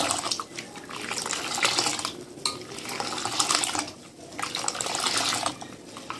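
A whisk or ladle churns and aerates Kashmiri pink tea in a pot, producing busy sloshing, splashing and metallic clinks in repeated waves, close and fairly loud, without talk.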